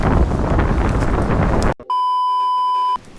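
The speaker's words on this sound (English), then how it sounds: "Wind just picked up to 90 miles per hour, going southeast." Strong wind roars outdoors, buffeting the microphone with loud, rough rumbling for under two seconds before a steady electronic beep takes over.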